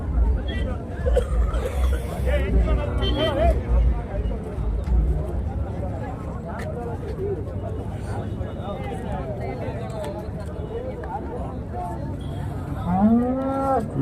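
Cattle moo repeatedly at the Chintamani cattle market in Karnataka, several low calls near and far over a steady crowd babble and people talking, with a louder moo near the end.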